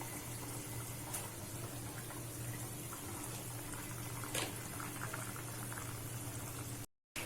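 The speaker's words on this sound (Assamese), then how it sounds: "উতলি গৈছে।" A pot of tomato fish curry bubbles at a steady boil, with continuous close simmering and a low background hum; no voices.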